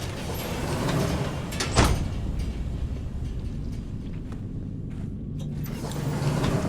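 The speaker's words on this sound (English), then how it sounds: "Go now, straight across to the door." A sliding door opening in the Starfield video game, a mechanical whir and slide with a sharp clunk partway through, over a constant low hum of machinery and ambience.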